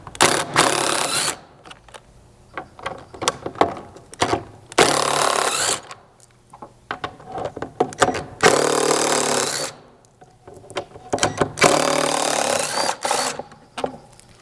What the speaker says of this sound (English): go ahead and remove the 4 Torx head screws here